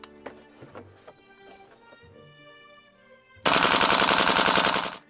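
Tokyo Marui AKM gas blowback airsoft rifle firing full auto on green gas with .20 BBs, a loud, dense, rapid burst of shots lasting well over a second after a few quieter mechanical clicks and handling noises.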